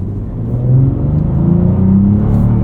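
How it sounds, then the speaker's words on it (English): A 2024 Cadillac CT4-V Blackwing with a V6 engine and six-speed manual revs up, its loud, close growl rising in pitch and holding steady over a few seconds with no talking. "This V6 actually sounds good."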